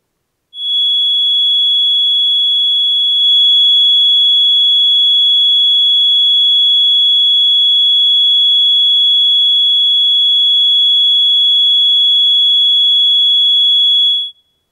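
A pure 3,369 Hz test tone played for a cymatics demonstration sounds as a loud, steady, piercing whine that starts abruptly, holds unchanged for about fourteen seconds and then cuts off.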